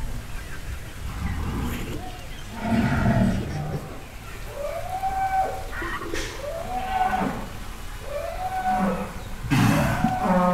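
Cattle at a dairy farm selling cows for Qurbani give several drawn-out, rising and falling moos in quick succession over a busy background murmur, near and fairly loud.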